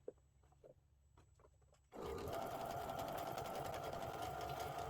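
After a short stretch of quiet with faint taps, a sewing machine starts up and runs steadily and loudly, stitching nested seams on a Bargello spring table runner.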